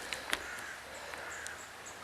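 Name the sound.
crows cawing in local woods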